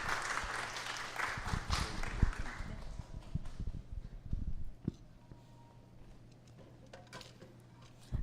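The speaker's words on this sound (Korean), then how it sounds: "나오실 때 박수로 환영해 주시면 감사하겠습니다." Applause from a church congregation welcoming a speaker, fairly quiet and somewhat distant, clapping for the first few seconds and then fading into a low room hum.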